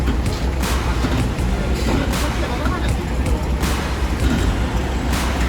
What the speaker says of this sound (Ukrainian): Машинка на ходу. Обережненько з'їжджає.